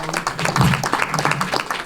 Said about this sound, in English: Y'all clap it up for her.